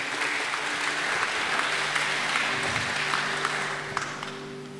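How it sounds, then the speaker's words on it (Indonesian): A church congregation at a bilingual Indonesian-English worship service clapping loudly and steadily for several seconds, a dense continuous round of applause filling the room. "Mari tepuk tangan yang meriah buat Tuhan Yesus."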